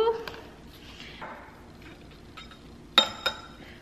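A scoop of powder goes into a glass of water, ending in two bright clinks of scoop against glass after soft handling sounds, with someone speaking quietly before them.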